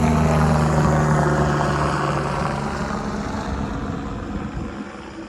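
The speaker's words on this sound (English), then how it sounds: "We got the safety chopper going out." A safety helicopter flies over a paramotor launch field, its steady droning rotor and engine hum loud at first and slowly fading as it moves away.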